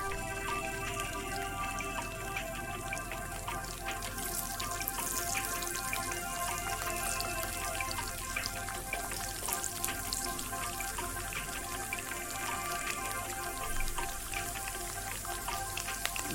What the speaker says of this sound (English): The oil is hot. Now I'm going to first begin by adding in the garlic.